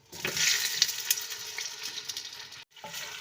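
Chicken pieces hitting hot oil in a cooking pot, giving a loud bright sizzle that slowly settles, with a brief cut of near-silence before the frying resumes; no speech.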